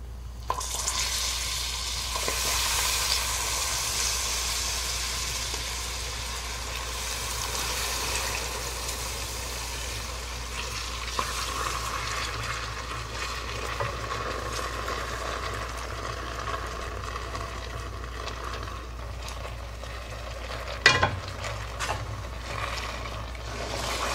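Milk poured into a hot pan to make burnt milk syrup on a stove turned to its lowest heat. It gives a steady soft sizzle over a low hum, with occasional stirring clinks and no talk.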